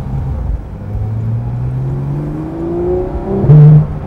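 Porsche 911 GT3 RS (Type 991) engine heard from inside the cabin with the roof closed, a smooth rising and falling rev with tonal whine building toward a louder peak near the end.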